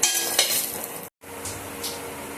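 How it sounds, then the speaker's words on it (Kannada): Capsicum ennegayi masala sizzles loudly in oil while being stirred, with occasional spoon scrapes against the pan. The frying stops briefly midway, then the steady hiss picks up again. "ಇದು ಎಣ್ಣೆಯಲ್ಲಿ ಚೆನ್ನಾಗಿ ಫ್ರೈ ಆಗಬೇಕು"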